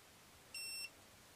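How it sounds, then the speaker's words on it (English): A heated eyelash curler gives a single short electronic beep, clean and high-pitched, rising out of quiet background hiss and stopping abruptly. "That beep you just heard, was it shutting off?"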